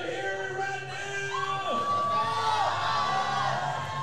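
A crowd cheers at a powerlifting national championship meet during a deadlift attempt, with sustained shouts and whoops swelling over the whole stretch and an announcer-like voice calling above it.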